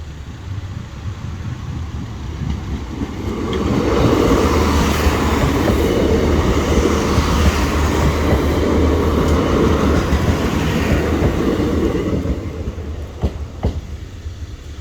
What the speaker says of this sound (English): 1646 train is always late for some reason